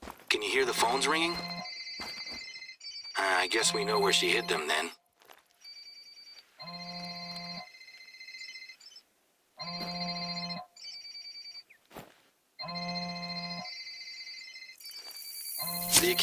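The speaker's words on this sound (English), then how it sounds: "Can you hear the phones ringing?" Telephones ringing at a camp in theHunter: Call of the Wild, repeated electronic ring bursts in a regular on-off rhythm, loud and close, with a person speaking briefly between rings.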